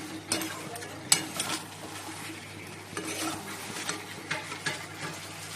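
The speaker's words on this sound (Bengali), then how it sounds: "চিকেনটা কষাচ্ছি" Chicken stir-fried in a pan: a soft sizzle runs underneath repeated scraping and clattering stirring strokes, close by, with no talk.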